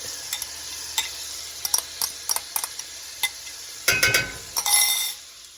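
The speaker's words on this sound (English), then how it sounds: "I usually cook in the garlic for about a minute till it's fragrant" Minced garlic frying in bacon fat in a pan, a steady sizzle with repeated utensil clinks and stirring scrapes, louder bursts near the end.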